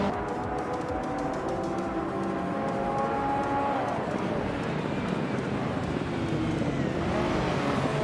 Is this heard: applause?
no